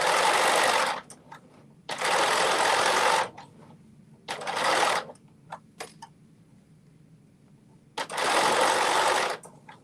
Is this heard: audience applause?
no